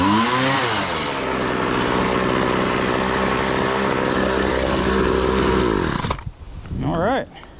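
A repaired garage-sale weed eater's small two-stroke engine idling loudly and steadily, then cutting off, followed by a short rising whine.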